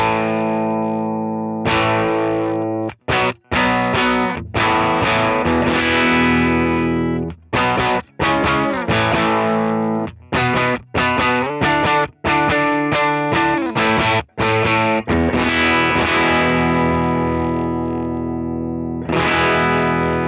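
An electric guitar runs through an overdrive pedal with the gain turned up, giving an explosive, spitty, distorted tone. Loud chugging chords and riffs are played solo, clipped by quick mutes and short pauses.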